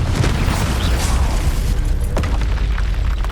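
A Confringo explosion spell goes off in the video game Hogwarts Legacy, a loud booming blast that rumbles heavily and steadily through the short span.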